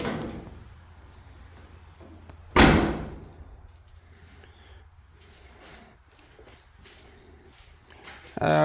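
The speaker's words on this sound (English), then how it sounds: "Door and everything closes fine, opens fine." A car door on a K-member-swapped Oldsmobile Cutlass shuts with one sharp, loud thud, followed by another bump at the end, while a steady low hum runs underneath.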